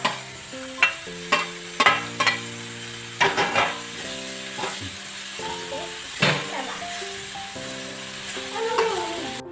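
Tomatoes fry in chicken curry masala, a steady sizzle broken by repeated sharp scrapes and knocks of a spoon against the pan, with faint background tones.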